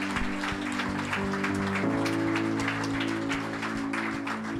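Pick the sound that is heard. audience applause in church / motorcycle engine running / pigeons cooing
audience applause in church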